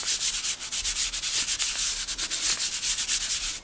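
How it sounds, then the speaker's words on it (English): An embossing buddy powder pad is rubbed over paper before heat embossing a gift bag, making quick, close, rhythmic scratchy strokes repeated steadily throughout. "I want to use my embossing buddy"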